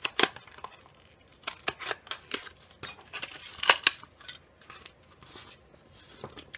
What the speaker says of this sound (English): I'm again going to use a paper cup or a Styrofoam cup. I'm going to cut like that.